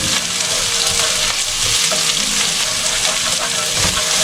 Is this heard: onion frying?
yes